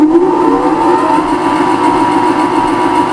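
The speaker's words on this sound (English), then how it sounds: "And we'll start our lathe up, and we'll see what it makes of it." A CNC lathe spins up under program control, its motor whining as the pitch rises during the first second, then settling into a steady, loud running hum with a high tonal drone and no talk.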